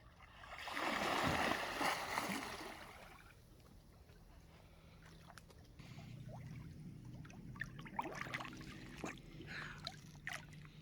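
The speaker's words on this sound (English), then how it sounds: "I'm gonna swim through the water and come out on the other end" A person swims through a pool, a burst of splashing and churning water up front, then quieter lapping and small drips and splashes with low ambient murmur.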